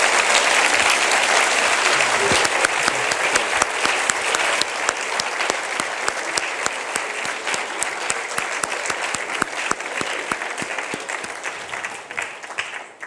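Sustained audience applause at an author awards event at The New School, a dense steady clapping from a large seated crowd that carries for the whole stretch and thins slightly near the end.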